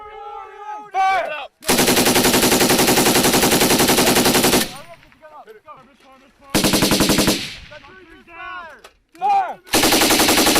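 A US military machine gun fires during a live-fire exercise in three long, loud sustained bursts of rapid close shots, with shouted voices and commands in the gaps between bursts.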